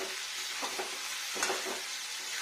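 Tomatoes and spices frying for a new-potato curry (aloo dum), a steady hiss with soft stirring scrapes of a spoon in the pan, fairly quiet and close, no talking.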